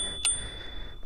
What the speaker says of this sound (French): petite sonnette.